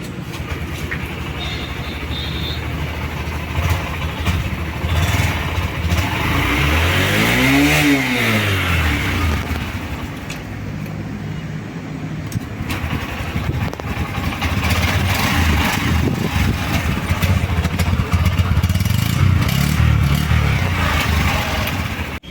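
An engine runs loudly and steadily for a long stretch, with a rising and falling whoosh as something passes midway; a 2025 Honda SP 125 motorcycle engine.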